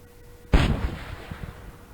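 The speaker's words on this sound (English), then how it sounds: "we get to watch another one of these explode" A rocket blows apart in Kerbal Space Program: a single sudden, heavy boom after a moment of near quiet, followed by a rumbling, crackling tail that slowly fades.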